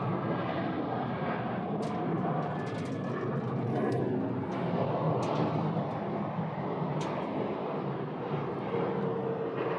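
A Southwest airliner arrives at Phoenix Sky Harbor Airport, its distant jet roar a steady broad rumble that swells slightly, with faint clicks and ambient outdoor noise, no voices.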